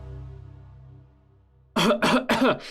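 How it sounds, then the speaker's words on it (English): Three sharp, loud coughs in quick succession from a person at a computer desk, coming after a low droning hum and standing alone with no talk over them. "Why does the computer transcribe my coughs too?"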